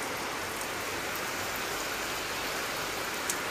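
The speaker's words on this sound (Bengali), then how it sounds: "তো বিশাল জোরে এখন বৃষ্টি পড়ছে" Heavy rain pours down on a flooded village garden as a dense, even roar with no break, loud and close throughout.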